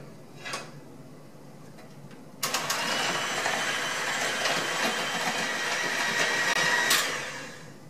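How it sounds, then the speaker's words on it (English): Egg yolks, five of them, are beaten with half a cup of sugar in a bowl, a sudden steady whirring and rattling mixer drone that runs for several seconds and then stops, after a quieter start. "I'm going to add ½ cup of sugar and then just beat this until it's nice and pale yellow in color"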